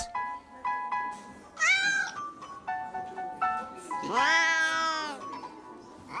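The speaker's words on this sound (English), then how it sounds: "There were fat cats and thin cats, tabbies and greys." Cartoon cats meowing and caterwauling, fat and thin cats, tabbies and greys, in an animated setting: a string of short mews, then a long, loud, rising yowl near the end, with plinking music underneath.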